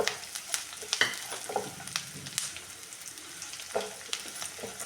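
Curry leaves and spices fry in hot oil for a beetroot rice dish, giving a steady crackling sizzle with sharp pops and stirring scrapes close by, and no voices.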